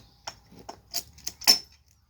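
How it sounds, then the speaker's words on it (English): Metal rods on a Springfree trampoline still under tension click and pop into place, half a dozen sharp, bright ticks spaced irregularly over two seconds, close and isolated. "I hear things clicking and popping into place."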